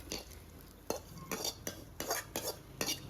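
Vegetables are sautéed in a pan in a home kitchen, with a utensil stirring and scraping in quick bursts of clinks and scrapes over a faint background sizzle.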